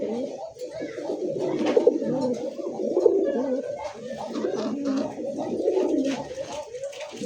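A deep-red pigeon with a swollen pot-shaped throat, of a fancy pouter breed, coos loudly and close in long repeated rolling phrases that fill the whole stretch, with faint talk behind.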